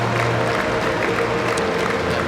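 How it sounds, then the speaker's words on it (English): A crowd of Australian supporters applauds and cheers track cyclists inside the World Cycling Centre, with steady, dense clapping throughout. "It's just some of the Australian contingent here inside the World Cycling Centre, cheering them on."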